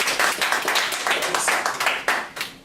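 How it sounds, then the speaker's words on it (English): An audience at a university anthropology alumni lecture claps for the speaker, a dense burst of many hands applauding at a steady loud level with uneven individual claps standing out. "please give a round of applause"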